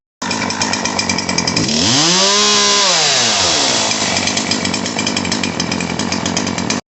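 A Poulan Pro PP5020AV gas chainsaw runs steadily after a carburetor adjustment, droning loud and close, with a clear rev up and back down in the middle before it settles to a steady idle-like buzz.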